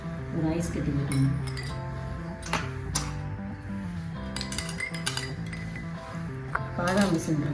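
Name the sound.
ice cube dropped into glass of sherbet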